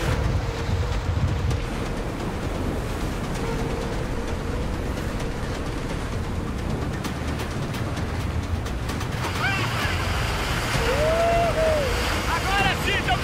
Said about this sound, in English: We are surfing the Pororoca that we were looking for.